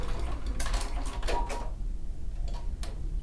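A sewing machine stitches a circular pattern, a rapid close mechanical clatter of the needle running briefly and then tapering to a few faint ticks.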